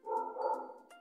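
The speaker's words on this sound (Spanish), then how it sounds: "Disculpen a mi perro." A dog lets out a single short bark with a tonal, whining edge, heard close in a quiet indoor room.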